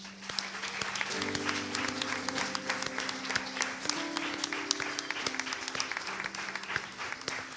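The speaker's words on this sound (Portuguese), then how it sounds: "Vamos dar uma salva de palmas ao Senhor." Church congregation clapping in praise, a steady dense patter of many hands continuing throughout over sustained organ or keyboard tones.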